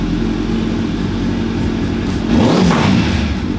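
A motorcycle engine idles loudly nearby, then revs up sharply in a surge of exhaust noise, with crackling pops from the exhaust as it climbs; no talk is heard.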